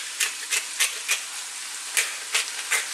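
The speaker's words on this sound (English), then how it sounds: "So what we want to do is fry these vegetables around" Vegetables for vegan spring rolls frying in a pan, seasoned with salt and black pepper, give a steady close sizzle with short bursts of crackling spitting at irregular intervals, and no talking.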